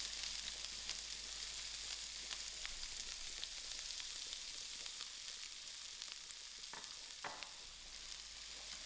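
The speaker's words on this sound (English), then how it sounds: "To my olive oil, I'm going to fry my onions." Onions fry in a little olive oil in a frying pan, a steady bright sizzle with occasional crackles and a couple of stirring scrapes near the end, no talking.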